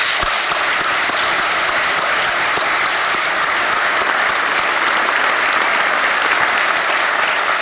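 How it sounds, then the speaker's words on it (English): Sustained, dense applause from a large crowd at a New York State emergency preparedness conference honoring first responders, loud and steady throughout with no talking. "You deserve a big round of applause"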